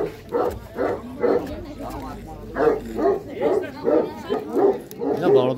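Dogs at a dog market in Khujand bark in a steady, repeated rhythm, loud and close, one burst following another over several seconds.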